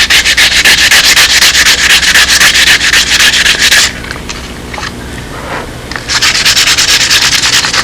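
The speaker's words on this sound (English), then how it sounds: "you just take a little sanding block and dress these off now" A sanding block rubs back and forth over wood in fast, rhythmic strokes, loud and close, with a brief pause midway.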